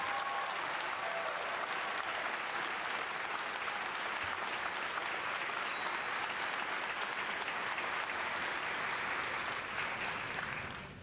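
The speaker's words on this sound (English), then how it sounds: "Please give our newly minted citizens a round of applause." A large audience at an infantry graduation ceremony applauds newly naturalized soldier citizens, with steady, dense clapping that fills the hall and holds for about eleven seconds before it tapers at the end.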